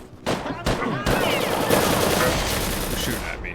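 Enemy gunfire in the video game RealRTCW, sharp shots followed by sustained rapid automatic bursts, loud and close, with brief gaps at the start.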